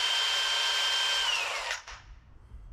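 An angle grinder cuts through old sheet metal on a 1959 Apache truck cab, a loud, steady high-pitched whine with a slowly falling tone for about two seconds before the wheel cuts off and winds down.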